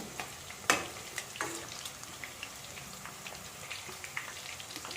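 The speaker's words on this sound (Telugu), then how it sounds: "ఇప్పుడు మనకి పీసెస్ మొత్తం కంప్లీట్గా ఫ్రై అయిపోయినాయండి" Chicken pieces for chicken pickle fry in hot oil, a soft steady crackle with a few sharp clicks and pops, fairly quiet and close, with no voices.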